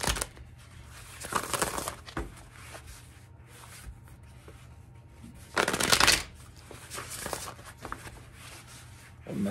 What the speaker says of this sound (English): Let's get four more shuffles for Leos.